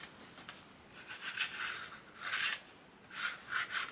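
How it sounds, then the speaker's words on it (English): A paper element is rubbed flat onto a scrapbook album page with a burnishing tool, giving several close, dry rasping swipes in short bursts separated by brief pauses. "And burnish it down."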